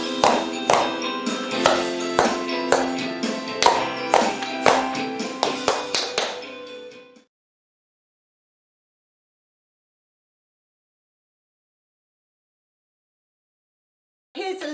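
Crisp tap-dance steps on a hard floor, a quick run of heel drops, flat stomps and a clap repeated in a steady rhythm for about seven seconds, then silence and one brief burst at the end.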